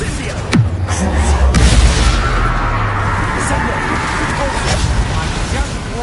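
The Incendio fire spell in Hogwarts Legacy goes off in a loud, roaring burst with a deep booming rumble, sustained amid dense battle noise and voices.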